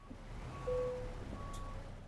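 A truck's reversing alarm beeps while it backs up in a parking spot, faint steady tones repeating over low idling engine rumble, with no speech.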